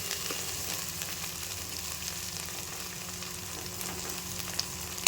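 Garlic, coriander, cinnamon and cloves frying for tomato rice: a steady, moderate sizzle holds close and even throughout, with a faint low hum beneath and one small clack near the end, no voices.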